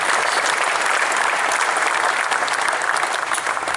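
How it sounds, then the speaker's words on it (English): A ceremony audience at a statue unveiling in the Ohio Stadium rotunda gives a brief, loud round of applause, dense steady clapping filling the space from start to finish. "So give yourselves a round of applause there."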